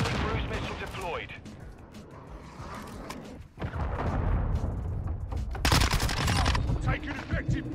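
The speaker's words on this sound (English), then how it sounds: "Friendly cruise missile deployed." Video game combat with a friendly cruise missile strike, heavy booming blasts and rolling gunfire filling the scene, loud and continuous, with a sharp surge of explosions near the end and voices talking under the battle.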